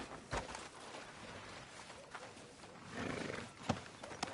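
A horse's hooves clop in the video game Red Dead Redemption 2, irregular faint thuds over a soft ambient bed, with a louder rustling stretch toward the end.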